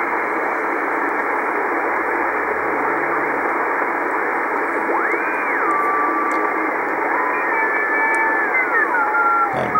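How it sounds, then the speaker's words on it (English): A steady bed of 10-meter amateur radio static with thin, wavering tones sliding in and out, like faint Morse code beacon signals drifting across the band. "So you'll hear basically these little Morse code stations sending out."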